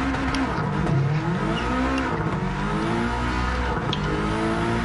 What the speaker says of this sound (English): I love the sound of this car fucking idle because I got anti-lag